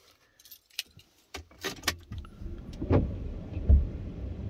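Keys jangle and clink in several quick bursts, close by, followed by a low rumbling hum of a vehicle.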